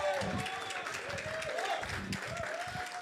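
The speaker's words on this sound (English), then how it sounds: "Give him a round of applause" An audience at a speakers' retreat session gives a speaker a round of applause, a steady wash of clapping with a few voices talking over it, moderately distant in the room.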